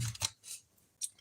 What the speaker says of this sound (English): I'm going to have to cut out a white cardstock and color it gray.